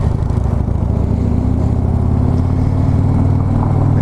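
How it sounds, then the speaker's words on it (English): A loud, close 2015 Harley-Davidson Street Glide Special with stock exhaust runs steadily, its deep, throaty exhaust note holding an even pulsing rumble throughout. "even for stock exhaust, this thing's got a pleasing note to it"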